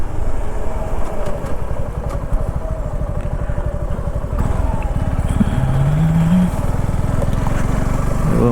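A Suzuki V-Strom 250SX motorcycle engine drones steadily on a weekend road ride, loud and close, with wind rush and a rising engine note near the end.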